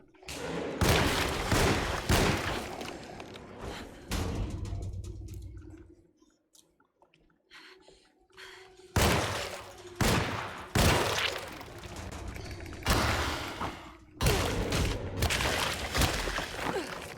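Gunfire rings out in the 2024 video game Alone in the Dark, with loud bursts of shots clustered at the start, a quieter lull in the middle, then more heavy volleys toward the end.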